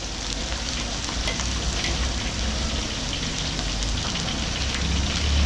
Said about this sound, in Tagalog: gisang-gisa yung bawang sibuyas